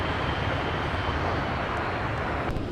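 An Embraer jet taxies at Minneapolis–St. Paul airport, its engine a steady, broad roar at moderate distance, unbroken from start to finish.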